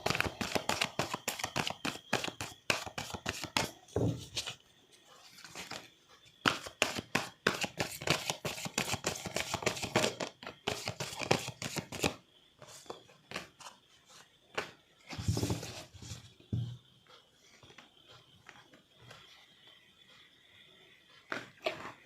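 Tarot cards are shuffled and drawn in a series of dense, crisp riffling bursts with short pauses between them, close and fairly quiet, ending in scattered flicks and taps as cards are laid out.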